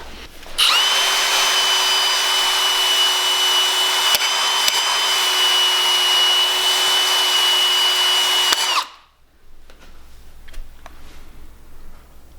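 A beginner's first welds at home, likely arc welding, give a loud continuous crackling buzz that holds steady for about eight seconds, then cuts off abruptly into quiet room noise.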